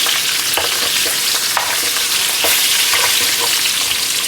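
Seasoned oxtails browning in a hot pan, giving a loud, continuous close-up sizzle with a few scraping stir sounds and no talking.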